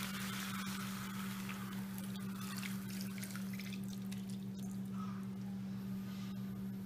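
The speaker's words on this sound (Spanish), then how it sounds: "aquí nosotros le vamos a agregar las 2 tazas del zumo de naranja" Orange juice is poured into a pan in a home kitchen while making chicken in orange sauce. A soft, steady splashing trickle plays over a constant low electrical hum, fading toward the end.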